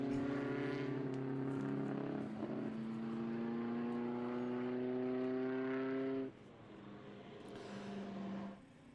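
A 1931 Bugatti Type 51 race car roars past on the circuit at Watkins Glen, its engine note rising and sliding in a steady, loud pass that fades off after about six seconds, followed by a fainter second engine in the distance.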